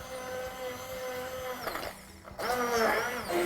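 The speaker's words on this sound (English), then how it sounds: "with these immersion blenders, they usually have a pulse button. So you just blast it a few times first to start breaking it down" An immersion hand blender pulses through ingredients for a chicken galbi yakitori sauce, giving a whirring motor burst that stops briefly and then returns louder, running steadily close by with no talk.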